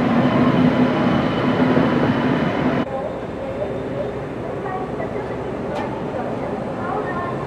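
The Mumbai–Howrah Duronto Express pulls into Tatanagar station, a loud rumbling train roar that drops to a lower steady hum partway through, with a brief high squeal near the end.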